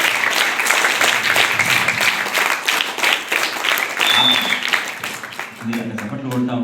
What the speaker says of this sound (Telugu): మీరు అక్కడ చప్పట్లు కొడతా ఉంటే ఇంకో గంట చెప్పాలనిపిస్తుంది